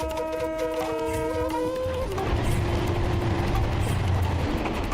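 A crowded commuter train in Dhaka rumbles along, opening with a sustained multi-tone horn blast that gives way to a loud steady roar of wheels and carriages, close and continuous.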